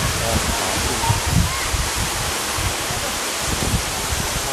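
A waterfall about thirty metres high pours off a cliff near the village of E-Tong in Thong Pha Phum, Kanchanaburi, Thailand, making a loud, steady rushing roar with low rumbling surges.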